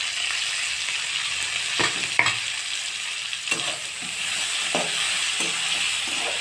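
Curry leaves, garlic and ginger pieces sizzling in hot oil with a steady frying hiss, punctuated by occasional stirring scrapes and light clinks.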